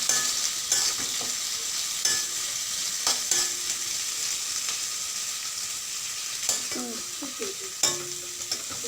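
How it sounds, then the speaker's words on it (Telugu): Chopped onions sizzle steadily in a hot pan as a utensil stirs and scrapes through them in repeated clinks, close and clear with no talking. "ఆనియన్ ముక్కలు వేసుకొని బాగా ఫ్రై చేయాలి."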